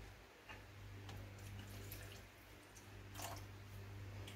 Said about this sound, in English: Alright, I'm gonna throw a little water.